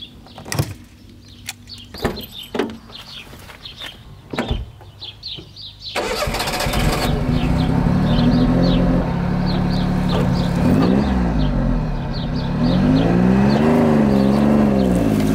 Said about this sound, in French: faire gueuler ces 3 cylindres au régime habituellement réservé aux 2 roues